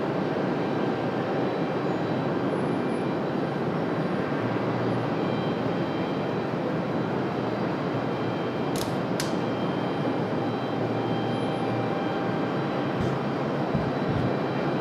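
Airliner on approach to land on runway 23 left at Raleigh-Durham International Airport, a steady, broad engine roar holding at even loudness throughout with no voices.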